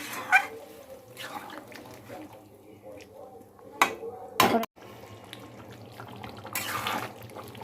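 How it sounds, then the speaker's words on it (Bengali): Water being poured into a pot of chicken curry and potatoes as it cooks, with short splashing bursts and utensil clatter, close by, while a person talks over it. "এইবার আমি একটু জল দেব, খুব বেশি জল দেব না"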